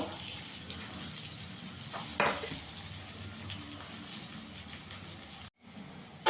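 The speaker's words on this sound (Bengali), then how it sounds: "ভালো করে ভেজে নেব" Steady sizzling of food frying in hot oil, a constant crackling hiss with brief clatter, then a short pause before it resumes.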